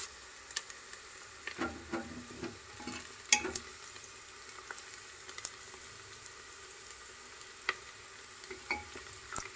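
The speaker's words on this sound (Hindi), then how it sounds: "इसे हम 1 से 2 मिनट भून लेंगे।" Onions frying in a pan for vegetable pulao, a soft crackling sizzle with scattered clicks and stirring scrapes, fairly quiet and close, and no voices over it.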